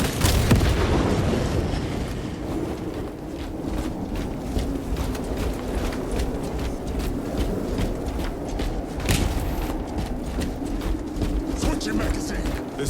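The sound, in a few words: frag grenade explosion in the video game Warhammer 40,000: Space Marine 2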